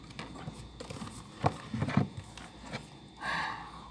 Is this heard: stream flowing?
no